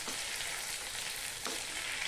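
A round-sliced ingredient fries in a pan with a dense, steady sizzle that carries on without a break for about two seconds. A brief surge of crackle comes partway through, and no one speaks.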